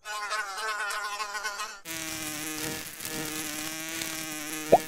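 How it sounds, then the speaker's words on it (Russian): A buzzing fly, a steady droning whine that shifts pitch partway through, with bright musical tones layered over it. "А, вот и муха."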